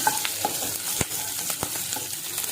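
Onions and green chilies fry in a pan with a steady hiss and crackle. A spatula taps and scrapes the pan now and then as the food is stirred up close.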